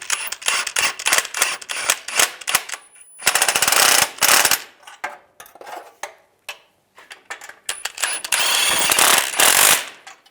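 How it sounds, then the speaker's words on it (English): Nuts being tightened on the transfer case flange of a 2007–2013 Chevrolet Silverado: close, rapid bursts of sharp metallic ratcheting clicks that start and stop repeatedly, with short quiet gaps between runs. "Then we're going to tighten up the nuts."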